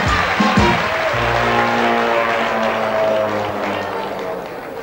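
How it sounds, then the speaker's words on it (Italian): Studio audience on an Italian television variety show applauds a departing contestant, a broad, continuous clapping wash under a sustained band or organ chord, holding steady and tapering slightly toward the end. "quando il nostro concorrente si avvia alla uscita, il pubblico deve applaudire"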